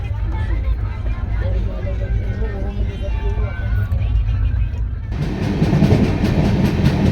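A long-distance passenger train heading toward Prayagraj through Madhya Pradesh rumbles steadily on the rails, heard from inside a coach, and grows louder and rougher near the end.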